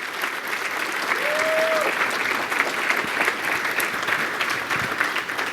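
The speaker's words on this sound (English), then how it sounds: "let's give these guys a huge round of applause" An audience at a company sales retreat gives a sustained round of applause for long-serving employees, dense even clapping filling the room at steady volume for several seconds.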